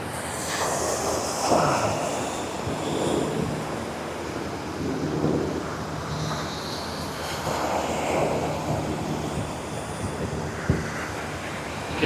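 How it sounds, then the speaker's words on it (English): An offshore helicopter returning from the oil rigs passes overhead during a tall ships parade of sail, a distant continuous rumble and rotor drone that stays steady against outdoor wind. "Just an offshore helicopter."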